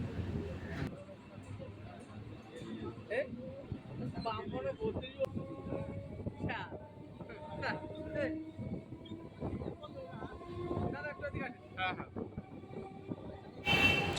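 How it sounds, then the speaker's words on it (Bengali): A local train on the Dum Dum to Budge Budge line rolls slowly along the tracks, giving a steady close rumble with rhythmic wheel and carriage clatter, some creaks and squeals, and a brief louder burst near the end. "আমাদের ট্রেন আবার ধীরে ধীরে ছোটা শুরু করেছে ছোট্ট ছোট্ট পায়ে এগিয়ে যাচ্ছে আমাদের ট্রেন"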